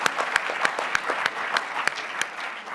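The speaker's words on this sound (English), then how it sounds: "another round of applause for our incredible panel and for all of the speakers of the day" A large conference audience claps steadily and fairly loudly after a summit panel, dense applause with a few sharper individual claps standing out at regular intervals, no voices on top.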